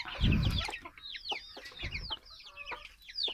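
A hen shut in an enclosure on a farm clucks in agitated bursts, trying to get out, while small birds chirp in the background.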